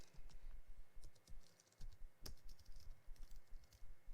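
Someone types C++ code on a computer keyboard in quick, uneven bursts of close, quiet keystrokes with one sharper key press partway through, and no speech.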